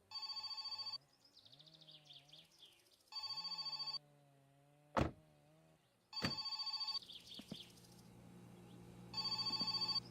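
A telephone rings in the video game My Summer Car, loud repeated electronic bursts separated by pauses, with quieter game sounds and a couple of sharp knocks between the rings.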